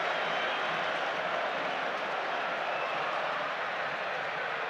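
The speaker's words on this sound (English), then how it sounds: "Another cheer goes up around Hampden Park from those in green and white" Celtic supporters in green and white roar at Hampden Park during a Scottish Cup match against St. Johnstone as Celtic win a free kick. The dense, loud crowd noise holds steady and unbroken throughout, with no clear talk.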